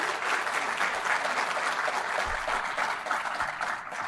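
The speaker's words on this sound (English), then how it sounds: "Let's give a round of applause for Ellen today." An audience at a professional IT session gives a round of steady, dense applause that continues evenly for several seconds.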